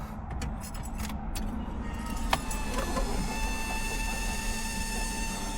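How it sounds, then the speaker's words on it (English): Electric fuel pump on a Volvo 240 primes after a year of sitting, a steady mechanical whir and hum running throughout with a faint higher whine, a sharp click near the middle, and no talking. "We'll go prime the fuel pump a little bit."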